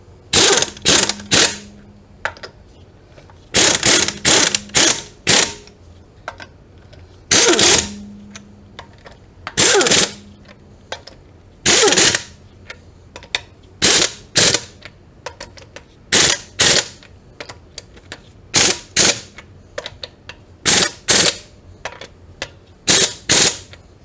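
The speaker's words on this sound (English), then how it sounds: "I'm going to alternate just like I did with the wrench that I had, but this is using the impact" An impact wrench snugs down bolts one after another, firing a long series of loud, short rattling bursts separated by brief pauses.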